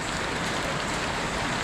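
Heavy rain pours down steadily in a dense, even hiss with no breaks, loud and close throughout.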